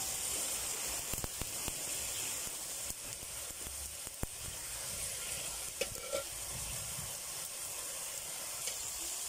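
Ground spices such as coriander, cumin and turmeric frying and being stirred in a pan for rui fish and bean curry, giving a steady quiet sizzle and hiss with occasional scraping clicks and no voices.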